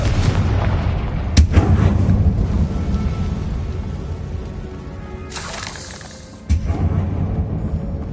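Spell explosions from the Confringo fire curse in the Hogwarts Legacy video game: loud, dense game combat with two sharp blasts, one early and a bigger one near the end, over continuous rumbling action.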